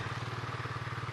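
Riding lawnmower engine held in a steady wheelie, a close, loud, even pulsing drone with a rapid regular firing rhythm and no talk.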